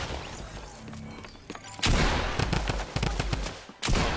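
Rapid bursts of video-game gunfire, shotgun blasts and pistol shots, crack loudly and densely from the two-second mark onward after a quieter stretch, with another sharp blast near the end.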